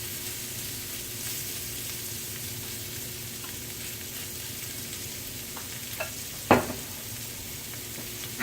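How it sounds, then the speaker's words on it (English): Shrimp hit a hot pan and fry with a steady, even sizzle that runs throughout, broken near the end by a few sharp clinks and scrapes of stirring. No one talks. "I'm going to go ahead and add our shrimp."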